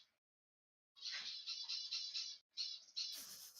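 Pet birds in and on a cage give several bursts of harsh, high squawks and chirps, fairly close and loud, separated by short silences.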